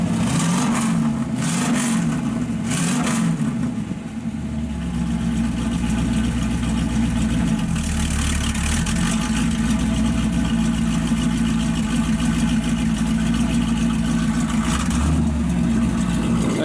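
A 1967 Chevrolet Camaro with matching numbers idles with a steady, close rumble from the exhaust, with a few quick revs near the start before settling into an even, loud burble.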